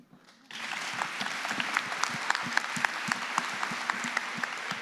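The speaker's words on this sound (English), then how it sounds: "Another round of applause for the students that were here with us this morning." An audience at a student presentation breaks into steady applause after a short quiet start, with dense clapping that holds at an even level until the end.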